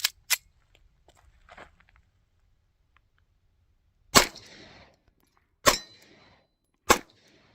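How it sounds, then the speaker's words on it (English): A Smith & Wesson CSX pistol fires several loud, sharp shots on a range, spaced a second or so apart with brief pauses between them. "So let's go ahead and put some rounds on target with the CSX."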